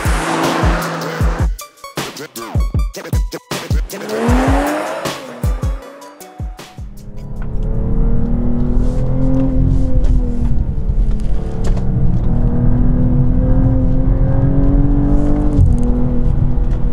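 A 2021 BMW M240i with an eight-speed gearbox pulls hard under acceleration, its engine note climbing loud and steady after a stretch of rushing road and wind noise.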